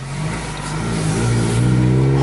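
A car engine revs on a drive with a rowdy, growling tone that swells steadily louder over a couple of seconds, heard from inside the vehicle with no talking.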